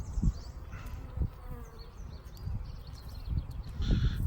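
Honeybees buzz around an open hive during an inspection, a close, continuous hum with thumps and handling noises underneath.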